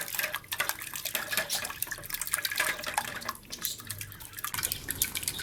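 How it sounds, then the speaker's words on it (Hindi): Water is poured into a whisked yogurt mixture for kadhi, a continuous splashing, trickling pour with small drips, close and steady, no talking. "इसमें थोड़ा पानी शामिल कर लेंगे।"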